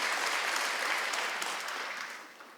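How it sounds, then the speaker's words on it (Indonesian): A church congregation at an online worship service bursts into sustained applause for Jesus, a dense, even roar of many hands clapping that slowly fades, with no voices. "Tepuk tangan dulu buat Tuhan Yesus."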